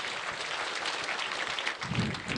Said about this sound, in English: a round of applause for our chief guests